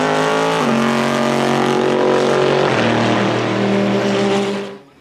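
Chevrolet Corvette V8 engine, loud even in stock form, roaring hard with a rich, steady harmonic growl and rising pitch shifts as it pulls and revs before cutting off abruptly near the end.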